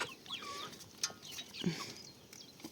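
Short rooster and hen calls mixed with clucking from a small flock, fairly close, with scattered squawks over a busy farmyard background.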